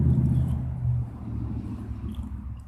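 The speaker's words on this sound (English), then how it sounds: "Very loud truck decides to drive by again." A loud truck rolls past nearby outdoors, a heavy low rumble that is strongest at first and then eases into a steadier, fading drone.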